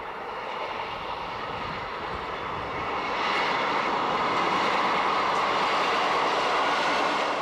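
An ALE 582 two-car electric multiple unit train in Sicily gives a broad, steady rumble that swells louder about halfway through and then holds, with no talk over it.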